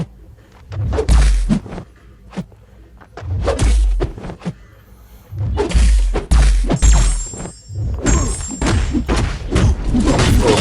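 Heavy attack hits in the mobile fighting game Marvel Contest of Champions: loud, booming thuds and whacks come in bursts with short gaps between them, alongside game effects.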